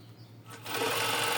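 A sewing machine stitches a bra top, starting after a brief quiet moment and then running in a close, fast, continuous mechanical whir.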